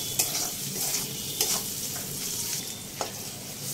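Food sizzles steadily in a hot pan, a continuous crackling hiss with a few sharp scrapes of stirring.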